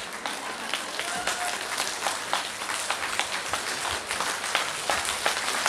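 Audience applause at a memorial concert evening, a dense, even stream of many hands clapping at moderate distance, sustained throughout without speech.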